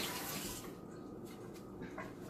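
A measuring spoon gets rinsed under a running kitchen tap, a soft, faint stream of water that splashes briefly at the start and then settles into a quiet, steady flow.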